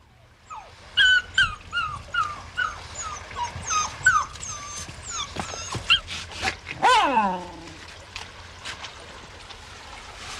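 A dog whimpers and yelps in a rapid series of high, wavering cries that rise into a drawn-out howl, fairly close, with faint flowing water behind it.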